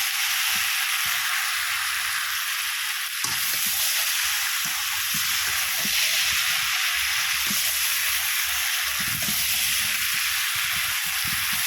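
Fried ridge gourd pieces go into a pan of boiled potatoes and prawns on a fiercely burning wood stove, raising a steady, loud sizzle and hiss broken by repeated stirring scrapes, with no one talking.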